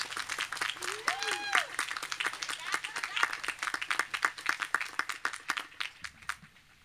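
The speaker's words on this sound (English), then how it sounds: "Let's give a warm round of applause to our graduates from the College of Pharmacy and Health Sciences" Commencement audience applauding graduates of the College of Pharmacy and Health Sciences: a steady wash of many hands clapping at moderate distance, with a few whistle-like tones rising over it early on.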